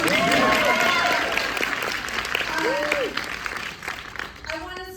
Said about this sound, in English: So you can clap for that.